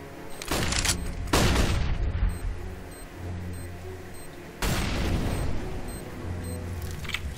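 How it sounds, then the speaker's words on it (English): A flashbang grenade thrown in the video game Counter-Strike, heard as loud booming bursts, one early, a second soon after and another midway, over steady game ambience with no talk. "I'm throwing a flashbang."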